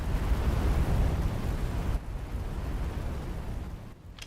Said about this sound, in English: You just threw a grenade.